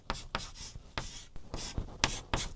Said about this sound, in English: Let's write it here.